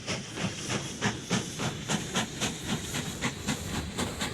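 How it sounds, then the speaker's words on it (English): A steam locomotive pulls out of the station in the video game Mashinky, with rhythmic puffing chuffs at an even beat of roughly two per second over a hissing background, fairly soft and steady. "So let's follow this train out of the station."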